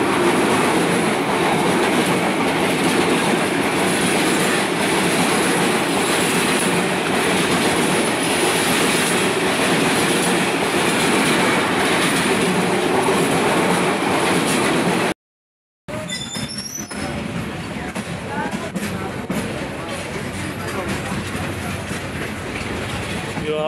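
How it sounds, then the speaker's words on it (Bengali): An international train passes at a crossing point, its wheels and cars rumbling loudly and continuously with rhythmic clacking and some wheel squeal before a short break and quieter rolling sound. "একটি আন্তর্জাতিক ট্রেন।"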